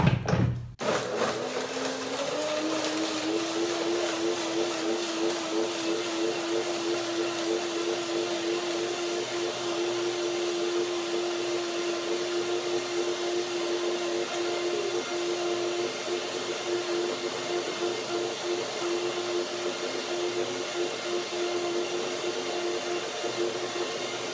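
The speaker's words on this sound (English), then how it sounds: "So blender it, let's see what happens." A countertop blender whirs at a steady high pitch for a long stretch, blending a sunflower seed salad dressing with black pepper; the motor starts with a jolt, then hums evenly and loudly without speech.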